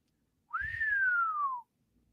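A person indoors whistles a single sustained note that rises briefly and then glides slowly downward for about a second, clear and close.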